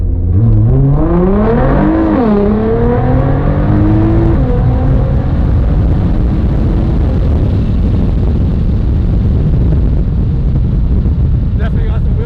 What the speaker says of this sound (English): Definitely got some wheel spin on there.